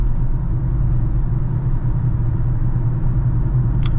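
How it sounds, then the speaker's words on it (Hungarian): Heavy road traffic surrounds a Citroën e-Berlingo: a loud, steady low rumble of engines and tyres that never lets up, with no talking. "Jó nagy forgalom van."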